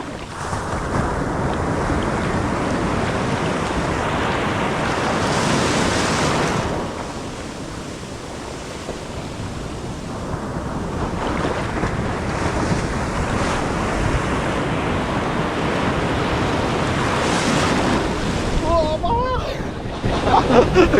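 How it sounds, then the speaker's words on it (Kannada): Big ocean waves crash and roar continuously at Apsarakonda beach, loud and close, with heavy wind buffeting the microphone and a brief lull in the surf partway through. "ನೋಡಿ ದೊಡ್ಡ ದೊಡ್ಡ ಅಲೆಗಳು ಬರ್ತಿದ್ದಾವೆ,"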